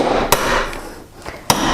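Hammer striking an oval disc cutter to punch through sheet metal, about 18 gauge, two sharp loud metallic blows with lighter taps between, close and without talking.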